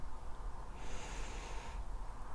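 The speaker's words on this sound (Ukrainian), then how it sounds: "просто сядь, розслабся, зроби глибокий вдих" A single deep inhale drawn in through the nose, soft and close, rising for about a second over a quiet room during a calm meditation.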